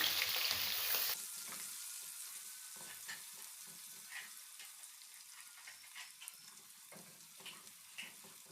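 A medium onion, chopped and dropped into hot oil for kadhi pakora, sizzles loudly at first, then settles into a steady, quieter frying hiss with occasional stirring clicks as it turns light brown.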